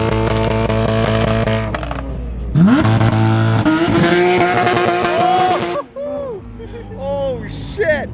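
Car engines rev hard at a large car meet, with rising and falling harmonic whines that swell into loud bursts, under excited shouting and cheering from nearby people.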